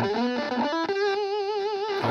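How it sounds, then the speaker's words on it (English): Electric guitar played through a distortion pedal giving an octave fuzz tone, a few short picked notes followed by a long sustained wavering note, loud and close with no talking. "sounds like an octave fuzz at the moment"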